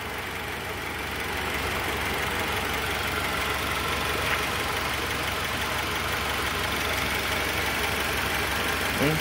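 Honda CR-V engine, a barn find fitted with a new battery, idling quietly with a steady low hum that continues unchanged for the whole stretch, no voices.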